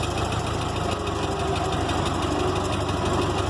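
A Ford Model T engine running at a steady idle, a close, continuous mechanical chug with a rough, knocking rhythm throughout and no talk.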